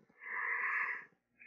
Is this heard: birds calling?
no